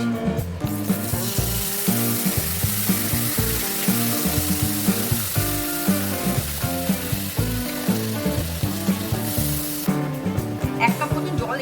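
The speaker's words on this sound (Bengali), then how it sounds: "এবার এর মধ্যে জল দিয়ে দিচ্ছি।" Water is poured into hot spice paste frying in a pan while cooking potol malai curry, and a loud, continuous sizzle runs throughout with rhythmic stirring scrapes before it eases near the end.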